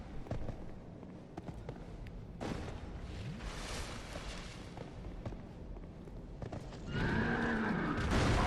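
A horse in the video game Dark Souls 2 neighs and whinnies amid game sound effects and hoof clatter, with a louder burst of noise near the end; no speech.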